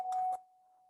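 A school bell rings once for first period, a brief electronic ding with a sustained tone that lingers quietly after the louder initial strike, with no talk over it.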